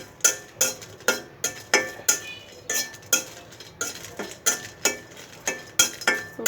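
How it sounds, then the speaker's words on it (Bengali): Dried red chillies fry in a pan over low heat while a spoon scrapes and clinks against the metal in a steady, regular rhythm of sharp strokes, close and clear with no talk. "নেড়ে চেড়ে নিচ্ছি।"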